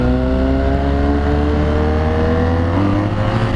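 A BMW R1200GS Adventure K51 motorcycle engine hums loud and steady up close, a sustained even revving tone with no talk over it.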